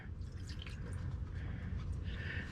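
Liquid draining from the fuel/water separator of a 2020 Ram 2500 into a pan, a steady trickle with drips throughout, faint and close.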